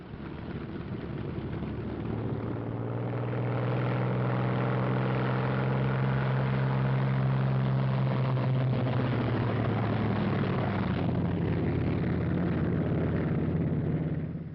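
A P-47 fighter's radial engine rumbles as the aircraft taxis out, a loud, steady low drone that swells slightly and holds throughout with a shifting tone, no voices.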